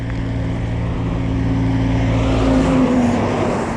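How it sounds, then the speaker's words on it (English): A big truck passes with a loud, steady rumble and a low engine drone that swells a little midway, heard from inside a moving vehicle. "Big old truck."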